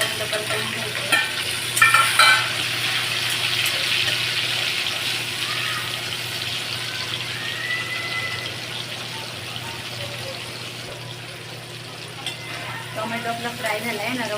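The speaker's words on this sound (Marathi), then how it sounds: "टोमॅटो नरम होईपर्यंत परतवून घ्यायचं।" Chopped tomatoes softening with onion in a pan, a low steady sizzle with occasional stirring scrapes, heard at close range with a faint background hum and no talking.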